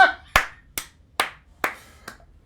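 A single pair of hands claps five times in a slow, evenly spaced rhythm. The claps are close and crisp, with silence between them and no voices.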